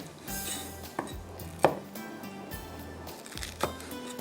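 Green chillies and ginger chopped on a board for mutton masala, a handful of sharp knife knocks at irregular intervals, close and fairly loud, with faint kitchen clatter between strokes.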